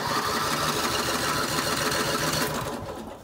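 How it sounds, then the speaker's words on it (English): An engine cranking steadily after its battery was charged with an old Sears charger, a continuous rapid mechanical churning held close and loud for about two and a half seconds before winding down. "We'll throw the clutch on, see if she cranks."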